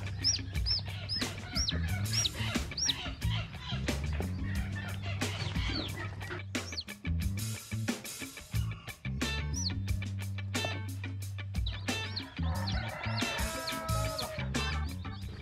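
Chicks on a chicken farm peep and chirp continuously and loudly up close, many birds calling at once with clucking mixed in, while a steady low hum runs underneath throughout.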